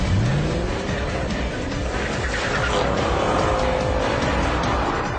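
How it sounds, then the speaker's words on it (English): A Mercedes S-Class S63 AMG and a BMW 760Li accelerate side by side in a drag race, a loud, sustained engine roar with a rising tone and a brief tyre squeal at the start, with no voices. "So let's go back to the traditional Philistine TopGear method. A drag race."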